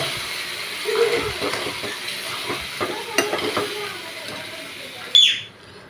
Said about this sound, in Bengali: কাজু দিয়ে দিয়েছি, এবার ভাতগুলোও দিয়ে দিলাম। এবার ভেজে নেব।